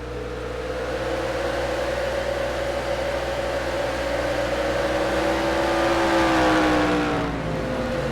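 Stock car engine of the number 95 Chevrolet in the NR2003 racing video game at Martinsville, a steady droning whine that climbs in pitch under acceleration, loud and continuous, with no talking.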